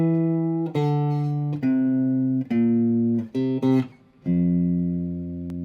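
Bass line moving beneath a chord progression on a keyboard, sustained tones shifting between held chords with short gaps, loud and clear with no voices.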